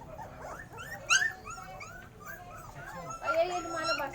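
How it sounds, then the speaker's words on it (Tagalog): A dog whimpers and yips in a string of high, wavering cries, some sharp and close, mixed with people talking nearby. "Ala, yung aso."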